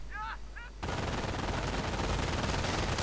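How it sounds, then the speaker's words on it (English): MG42 machine gun fire in a World War II strategy game, a dense, loud, continuous rattle that starts abruptly after a brief quieter moment with faint chirping game sounds. "MG42 setting up."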